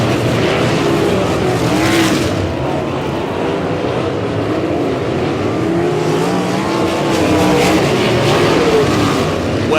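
Sprint cars race around Humboldt Speedway's oval during a POWR WAR Sprint Car League A feature. Their engines roar steadily and loudly for the whole stretch, with a rising pass near the start and another toward the end.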